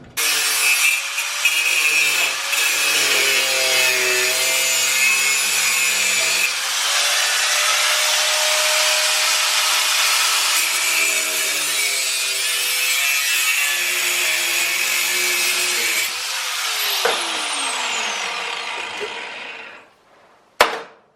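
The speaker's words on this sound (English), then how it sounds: "get the grinder out and chop that up" A grinder cuts steadily through a metal exhaust bracket on a Suzuki motorcycle, a loud continuous abrasive whine lasting about twenty seconds that shifts pitch as the cut progresses, then winds down and stops near the end.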